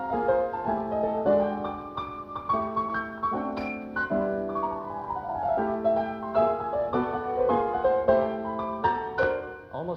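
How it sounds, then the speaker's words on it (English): A progressive jazz pianist improvises on a tune, Birdland style, with clear sustained chords and melodic runs, steady and close, with no talking. "if a cool progressive cat is playing it on the piano in Birdland, it might sound something like this"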